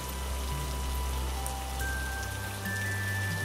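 Steady rain falls in a continuous even hiss, with soft low tones beneath it and no voices.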